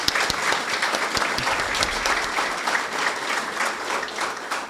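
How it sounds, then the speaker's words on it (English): A dinner audience at the 2022 Fairfield County ADAMH annual awards dinner applauds, with dense, steady clapping that holds at an even, fairly loud level for nearly five seconds without a break. "I think they all deserve a round of applause for this."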